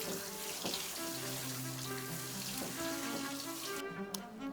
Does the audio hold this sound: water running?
yes